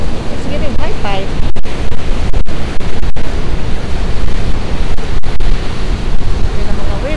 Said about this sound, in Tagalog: Laki ng mga waves.